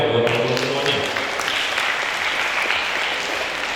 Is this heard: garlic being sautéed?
no